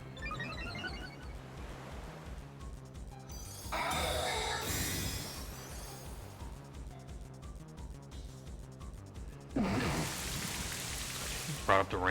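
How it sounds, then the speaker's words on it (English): Rain Dance weather effect in a Pokémon Scarlet/Violet VGC battle, a steady hiss of heavy rainfall with two louder surging bursts and game sounds beneath. "Brought up the Rain Dance so he can land Bleakwind Storm"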